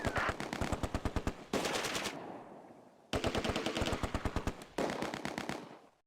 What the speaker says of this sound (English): Under heavy fire. We're pinned down.